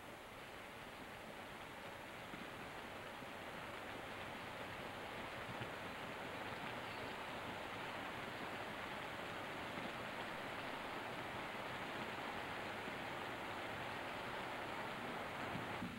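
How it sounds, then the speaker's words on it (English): Steady heavy rain falling at night in Sulawesi, a dense, even hiss that continues without break, fairly faint and distant, with no voices. "The rain tonight is a little bit too much."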